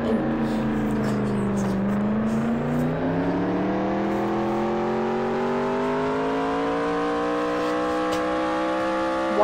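A car engine in the video game Jailbreak hums steadily, dipping briefly then climbing smoothly in pitch as it accelerates, heard muffled as if from inside the vehicle, alone without talk.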